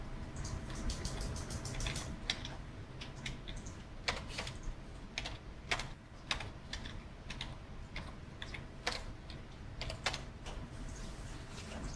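Steady, close typing on a computer keyboard, with irregular sharp key clicks running continuously over a quiet background hum.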